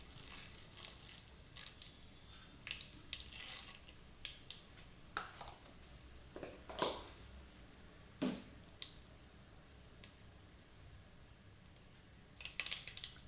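Cumin and mustard seeds sizzle in hot oil on a low flame, a quiet continuous crackle broken by scattered sharp pops and spits.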